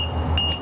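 A Draeger air monitoring meter sounds its alarm in a steady, loud electronic beeping close by, with a high shrill tone pulsing throughout the short burst.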